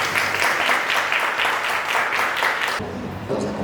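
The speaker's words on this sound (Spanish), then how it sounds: "a quien voy a pedir que lo recibamos con un bonito y fuerte aplauso" A book-launch audience gives loud, sustained applause to welcome young author Eduardo Mosqueda, a dense, close wash of clapping that drops off sharply near the end.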